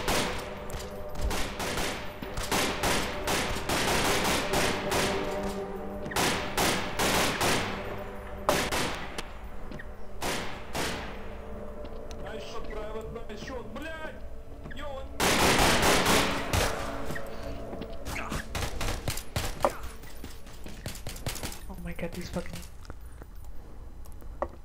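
Gunfire in the game Garry's Mod during a staged war battle, with dense automatic bursts and overlapping shots through most of the stretch, loud and chaotic, with voices heard at times beneath it.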